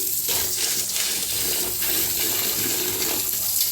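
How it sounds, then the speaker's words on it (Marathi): Rice grains being rubbed and rinsed by hand in a bowl of water, with steady close splashing and sloshing throughout and no talking. "तर असं गसा गसा घासून का नाही धुवायचं तांदूळ"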